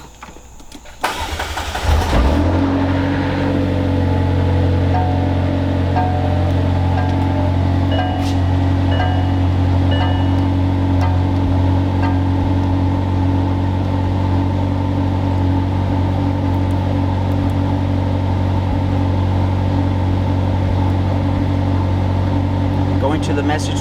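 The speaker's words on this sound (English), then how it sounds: "We're going to go ahead and start the car, go see where the battery voltage goes" A McLaren with a dead-battery fault starts with a brief crank and catch, then settles into a steady, loud, continuous idle for over twenty seconds.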